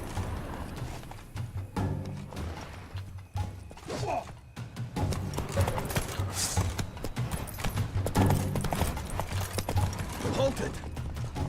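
Roach, the horse in The Witcher 3, gallops with steady clip-clop hoofbeats and creaking tack, mixed with game sounds and a voice talking over it.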